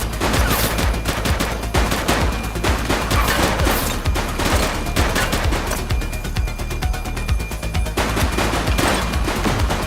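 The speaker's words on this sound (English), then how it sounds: "He's shooting!" Sustained heavy gunfire from the top-down police action game The Precinct, dense overlapping shots and bursts that fill the whole stretch loudly without a break.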